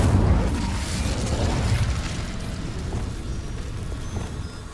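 A fire spell cast in the Hogwarts Legacy video game, heard as a loud burst with a booming, crackling whoosh that fades into a rumbling, rain-like hiss over several seconds.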